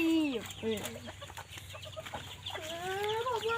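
Bantam chickens cluck and squawk close by, with rising and falling calls overlapping, while faint voices murmur in the background.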